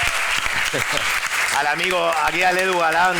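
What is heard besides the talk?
audience applause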